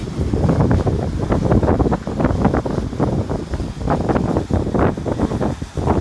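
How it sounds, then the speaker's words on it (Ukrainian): Strong wind buffets the microphone in a steady, rough roar with low rumbling gusts, loud and continuous throughout, with no voices. "вітер є сильний"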